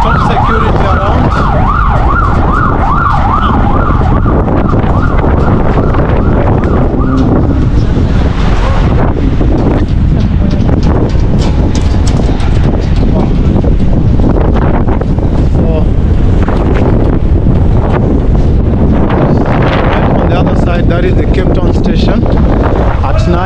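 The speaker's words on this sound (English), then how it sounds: "Much wind." Strong wind buffets a microphone on a night street in Cape Town, a loud steady rumble with gusts throughout; a siren wails early on and voices talk underneath.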